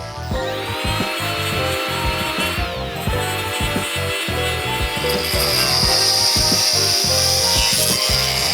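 A power saw cuts through plastic PVC pipe to make spacers for a Honda Civic steering rack, with a loud, continuous whine and rasping grind that stays steady, close and alone for the whole stretch.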